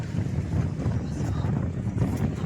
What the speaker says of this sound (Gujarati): અત્યારે આમ ઠંડો પવન આવે સાઈથી બધું ખુલ્લું છે